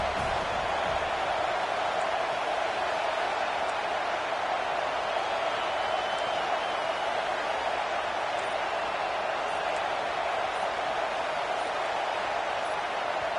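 Steady roar of a large stadium crowd in a college football video game featuring the Pitt Panthers, a dense continuous wash of noise holding at an even level throughout with no distinct voices standing out.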